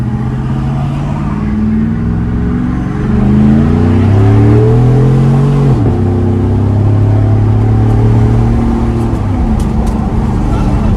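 A 2014-2018 GMC Sierra pickup with a Borla cat-back exhaust roars loudly at wide open throttle, climbing in pitch as it revs hard through the gears, then dropping and building again with a deep exhaust rumble.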